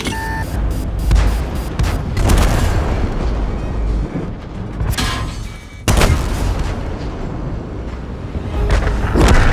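Tank cannon fire in the World of Tanks video game: a series of loud, booming shots with heavy low rumble, two main blasts near the start and around the middle, plus scattered crackling impacts, with no speech over it.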